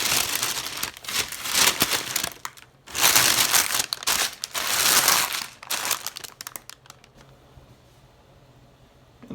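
Tinfoil being folded and crumpled around a trout, with bursts of loud, close crinkling and crushing that come in waves before fading to near quiet at the end, with no talking.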